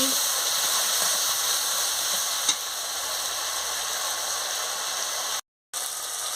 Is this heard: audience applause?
no